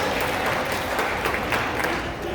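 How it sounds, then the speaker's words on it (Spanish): Audience at an education conference in El Salvador applauds the teachers, a soft, distant wash of clapping that stays even and low in level for a couple of seconds. "Un aplauso para los profes que se sentaron de ellos"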